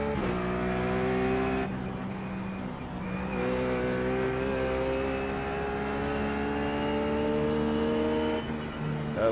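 A Ruf GT3 race car at Bathurst in iRacing, its engine held at high revs and bouncing off the rev limiter, a loud sustained buzzing drone with small pitch shifts and brief dips.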